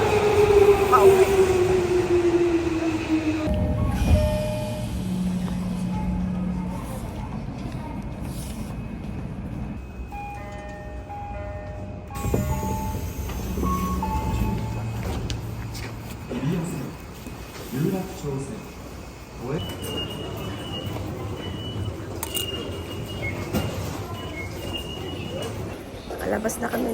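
Rumbling, rattling noise inside a moving train carriage in Tokyo, with occasional electronic beeps and chimes and people talking over it.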